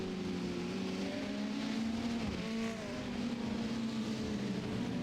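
Ferrari Challenge race cars in iRacing on the Charlotte Roval drone past with sustained, steady engine tones, faint and distant, with a brief dip in pitch midway as a car lifts and shifts.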